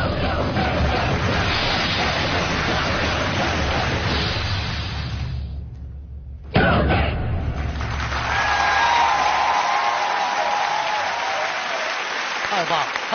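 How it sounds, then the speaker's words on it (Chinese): Studio audience applause at a military variety show's annual final: loud, continuous clapping that breaks off abruptly for about a second, then resumes just as dense and strong. "咱俩一块儿起来鼓掌"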